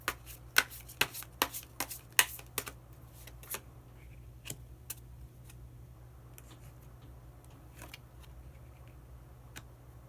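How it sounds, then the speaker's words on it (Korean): Tarot cards are shuffled with a quick run of crisp, quiet snaps, then a hidden card is drawn amid a few soft, sparse taps. The sounds are faint and close in a quiet room. "그러면 마지막으로 히든 카드 한 장 더 뽑아보도록 하겠습니다."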